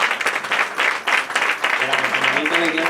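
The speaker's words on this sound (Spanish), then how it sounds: "Un aplauso a Gonzalo, que lo hace genial." Audience applause at a tribute concert by the sea in Isla Cristina, praising a guitarist; dense clapping fills the room while a voice begins speaking over it near the end.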